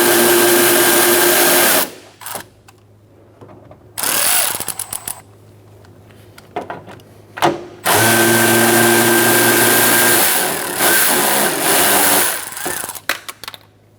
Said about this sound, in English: Using an 8mm socket, we're going to take out these two nuts.